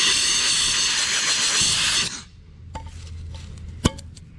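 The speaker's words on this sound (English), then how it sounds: "since it's out, I pretty much blasted it with air anyway" Compressed air blasting into a heater part of a 1955 car, a loud steady hiss for about two seconds that cuts off, followed by faint clinks and a sharp knock.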